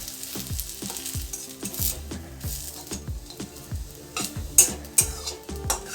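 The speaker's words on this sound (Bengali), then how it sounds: "বেশ লাল লাল করে ভেজে নেব" Garlic fries in a wok until reddish-brown, giving a steady close sizzle with repeated rhythmic scrapes and stirring knocks of a utensil against the pan, plus a couple of sharper clinks near the end.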